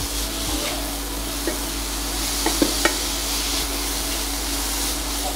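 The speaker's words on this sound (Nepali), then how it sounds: "हामीले 10 मिनेटसम्म भुट्यौँ" Grated carrots fry over a low flame in a pan, giving a steady close sizzle broken by a few sharp scrapes and taps as a spoon stirs them.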